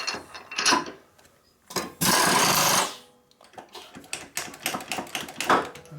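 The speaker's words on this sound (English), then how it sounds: "So we use a single point fly cutter, so we have very, very low pressure on the part." A single point fly cutter spins at high RPM, machining a welded, previously cracked inner primary cover from a 1997 Harley-Davidson Dyna FXDG. Irregular close mechanical clatter and chatter build to a loud, sustained, harsh cutting burst, then return to uneven rattling.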